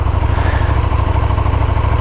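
A KTM Super Duke 1290, a 1300 cc twin-cylinder motorcycle, idles steadily up close, its low lumpy pulse thudding in an even rhythm with no voices over it.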